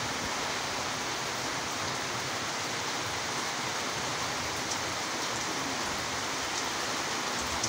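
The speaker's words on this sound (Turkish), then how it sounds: "halen bir akşamdan beri yağmur çok güzel yağıyor" Steady, dense rain falling on a village with a constant hiss and soft patter, no voices, continuous throughout.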